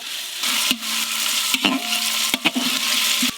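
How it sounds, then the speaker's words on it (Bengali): Ginger, garlic and onion frying in a pot for chicken biryani: a steady close sizzle with occasional sharp clinks and scrapes of a utensil stirring against the pot. "এদিকে হাঁড়ির মধ্যে আদা রসুন পেঁয়াজ ভাজা হতে থাক"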